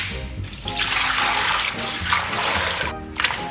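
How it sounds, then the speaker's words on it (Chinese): Chicken leg pieces are rinsed in water in a home kitchen, with a steady, close splashing stream that briefly pauses near the start and again toward the end. "简单把鸡肉给它再次清洗一下。"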